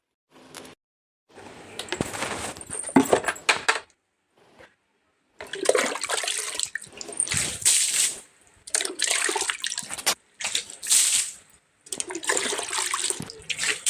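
Water is splashed onto the ground before rangoli is drawn, heard as several separate bursts of splashing and pouring broken by short silences, moderately loud and close.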